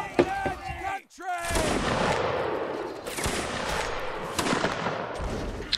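Musket volleys crackle in a Napoleonic Wars video game line battle, dense overlapping shots rolling on continuously at close to middle distance after a brief voice at the start, with occasional sharper reports standing out.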